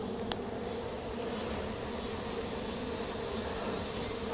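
Honeybees buzz in a dense, steady hum during a beehive inspection, close and continuous with no talk over it.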